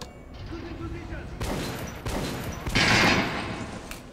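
Bursts of rapid gunfire from a weapon in Metro: Last Light, several loud close shots fired in quick succession, with a brief murmur of voice in between.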